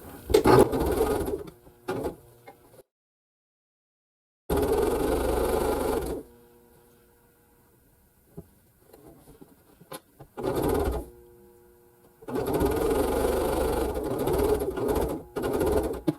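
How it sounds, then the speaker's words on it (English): A sewing machine stitches a quilt block corner to corner along a quarter-inch seam, running in several loud bursts separated by pauses and quieter gaps. "And I'll just sew from corner to corner, 1/4 inch."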